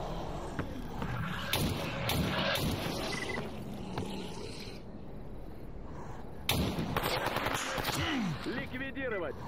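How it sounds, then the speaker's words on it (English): Gunfire in the shooter game Stalker Anomaly, with a series of sharp shots and bursts scattered over several seconds amid game noise and voices talking. "Why are you shooting me?"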